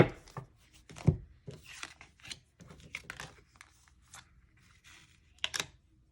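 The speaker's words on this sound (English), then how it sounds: "So we go a little slow with the side shuffle" A tarot deck being side shuffled slowly by hand, giving soft irregular riffling and card-slapping rustles with short pauses between bursts.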